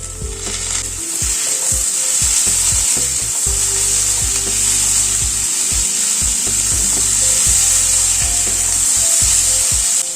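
Tomato chunks frying with ginger paste in a pan for a dal, giving a loud continuous hiss while a spatula scrapes and stirs in regular strokes close by.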